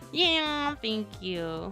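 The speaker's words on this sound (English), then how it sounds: "what animal is that? That's a cat." A cat meows three times in quick succession, each call rising and then falling, close and fairly loud, with a voice speaking briefly between the calls.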